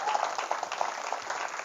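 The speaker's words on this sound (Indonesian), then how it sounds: "Tepuk tangan untuk kita semuanya hari ini." Audience applause from hundreds of parents of boarding-school students at a parenting seminar in a modern Islamic boarding school, a dense steady clapping wash lasting under two seconds with no talk over it.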